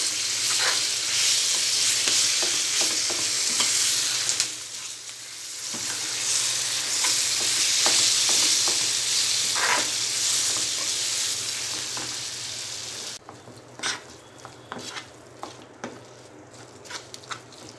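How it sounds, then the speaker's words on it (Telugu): Ground brinjal and mint chutney stirred into a hot fried tempering in a pan, giving a steady close sizzle with scraping stir strokes, then the frying dies down to quieter sparse ticks and pops near the end. "తాలింపు ఫ్రై అయిన తర్వాత ముందుగా నూరుకున్న పచ్చడి వేసుకొని కలుపుకోవాలి"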